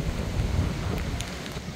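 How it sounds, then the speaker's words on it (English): Hurricane wind and rain near an apartment complex entrance in Pearland, Texas, roaring as a steady, loud, rumbling gust with rain hiss, close to the microphone and continuous throughout, with no talking. "You get a ton of wind coming in, a lot of rain, you know, just loud."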